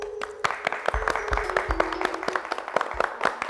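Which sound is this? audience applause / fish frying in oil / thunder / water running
audience applause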